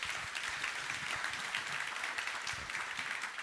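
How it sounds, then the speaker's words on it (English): Applause for panelists at a global financial leaders' investment summit, a soft, steady wash of clapping from an audience that carries evenly from start to finish with no talk over it. "can we give them a round of applause"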